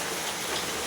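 Steady broadband hiss of rain falling outdoors in a Kerala village, a continuous even wash with no distinct drops standing out, moderately faint and with no voices.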